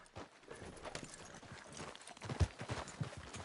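Horse hooves clip-clopping in Red Dead Redemption 2 during a race, with irregular thuds growing stronger toward the end over a busy game background.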